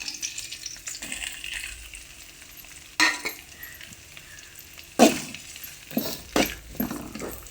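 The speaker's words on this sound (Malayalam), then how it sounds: "ഇഞ്ചി, വെളുത്തുള്ളി ഇതെല്ലാം ഒന്ന് ഫ്രൈ ആയി വന്നിട്ടുണ്ട്" Ginger and garlic fry in a pan for a Kerala chicken curry, giving a steady, soft sizzle with sharper bursts and clinks as the mixture is stirred.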